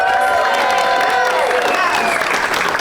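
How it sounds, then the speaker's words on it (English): An excited convention crowd at a Q&A panel at Spooky Empire claps and cheers loudly and continuously, with whoops and raised voices rising over the dense applause throughout. "we need more applause than that"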